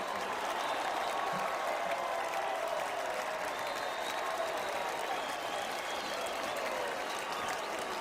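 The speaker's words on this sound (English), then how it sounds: "You hear the crowd clapping it up." Football stadium crowd at an NCAA FCS championship quarterfinal between Stephen F. Austin and Montana State, clapping and cheering as a dense, steady roar of applause that holds at an even loudness throughout.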